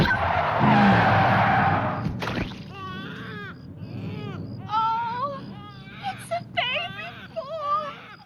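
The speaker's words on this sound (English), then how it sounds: "Ricky Bobby's father, slams on the brakes, and he like pops out in the car." Tires skid for about two seconds as a driver slams on the brakes in a Talladega Nights film scene, followed by voices and whimpering crying.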